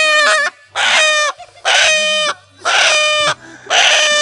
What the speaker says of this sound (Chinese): 这鸡现在开始往上爬，准备要喂食过夜了。